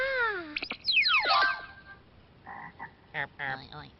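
Cartoon frogs croak in a fable, with a burst of sliding whistle-like calls followed by a series of short, rhythmic croaks, clear and close.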